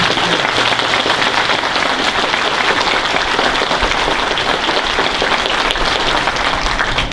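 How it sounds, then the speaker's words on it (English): An audience at a high school graduation ceremony applauds loudly and continuously, a dense wash of many hands clapping throughout with no break. "Let's have a round of applause for our students."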